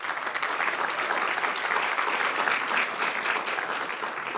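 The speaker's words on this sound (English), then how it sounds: "let's give them all a round of applause" A crowd at a city council candidate forum gives the candidates a round of applause, dense continuous clapping holding steady from start to finish at a moderate distance.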